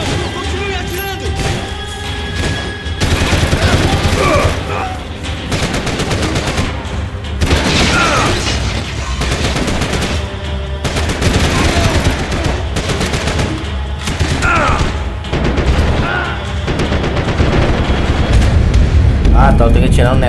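Sustained gunfire in the Max Payne 3 video game, with dense bursts of automatic shots, booms and crashes running throughout, and a voice speaking over the combat.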